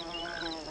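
Solitary bees buzz at flowers, a brief, close, continuous droning hum with a wavering pitch and no voices.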